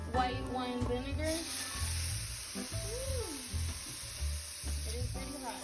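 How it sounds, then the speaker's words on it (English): A hot pan deglazed with a dash of white wine vinegar, with mushrooms for vegan mamposteao, sizzles steadily at close range while a person talks over the frying. "I am gonna put a dash of vinegar in this to deglaze the pan"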